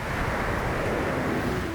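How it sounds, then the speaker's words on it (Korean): Wind gusts sweep steadily across an open farm field, a continuous broadband rushing that buffets the microphone, loud and unbroken with no voices. "갑자기 바람이 불더니"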